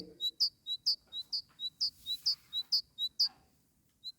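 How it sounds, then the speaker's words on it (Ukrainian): Titmice chirp outdoors in a brisk, even series of bright, high notes, about a dozen in quick succession, close and clear over a soft background hum. "В живій природі веселіше цвірінькають синички, сповіщають, що до весни уже один крок ступити."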